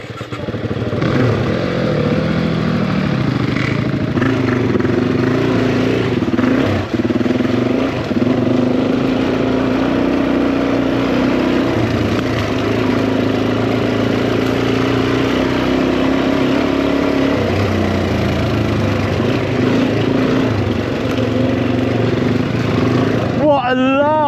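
A Suzuki DRZ400E trail motorcycle engine revving and pulling nearby on a trail ride, loud and continuous with rising and falling revs and some clatter, under wind noise, with a voice speaking briefly.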